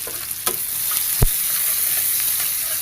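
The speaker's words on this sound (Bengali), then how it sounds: "ফাইনালি আমরা শাকটাকে কুক করার জন্য যা যা প্রয়োজন তা কড়াইয়ের মধ্যে দিয়ে দিচ্ছি।" Bathua greens cooking in a wok, a steady frying sizzle with a couple of sharp stirring knocks and scrapes, close and continuous, no speech.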